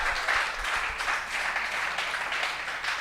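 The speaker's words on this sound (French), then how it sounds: "applaudissez pour vous-même" An audience at a live comedy show breaks into steady, dense applause that carries on through the whole moment, with no single voice standing out.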